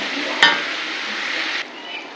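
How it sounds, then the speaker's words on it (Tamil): Elephant foot yam curry stir-fried with chili powder in a pan gives a steady sizzle, with one sharp scrape of a spoon early on before the frying hiss drops slightly. "இப்போ இதை நல்லா திருப்பி விட்டுட்டு நல்லா கொஞ்சம் ஓரளவுக்கு ரோஸ்ட் ஆகிற வரைக்கும் நம்ம வதக்கணும்."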